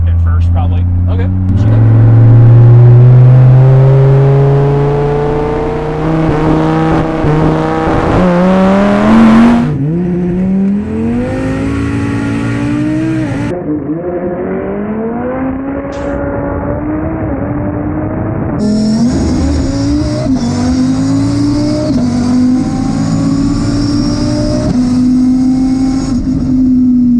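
A 3300 hp twin-turbo Dodge Viper accelerates hard with rolling anti-lag, the engine note climbing through gear after gear with abrupt shifts, loud and close from inside the car, with turbo whoosh and crackle between pulls.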